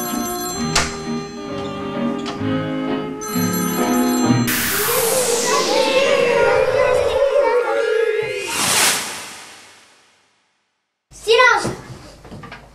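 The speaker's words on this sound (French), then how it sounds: "Oh, le téléphone sonne." A telephone rings with a bright, repeating electronic ringtone that fills the opening seconds and stands out loud and close, followed by a jumble of louder noises and brief sounds after a short silence.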